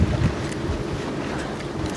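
Steady wind buffets the microphone on a boat during a York river cruise, with a continuous low rush of air and water and no talking.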